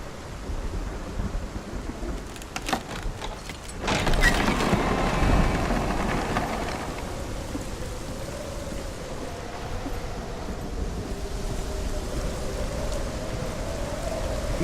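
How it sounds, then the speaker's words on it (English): Thunderstorm in Hellblade: Senua's Sacrifice: a low rolling thunder rumble swells over steady heavy rain, with a faint droning tone underneath and no talking. "look at the storm effects too"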